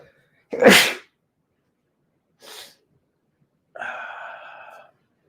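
A single sharp sneeze up close, followed by a brief breathy sniff and then a short nasal, voiced exhale.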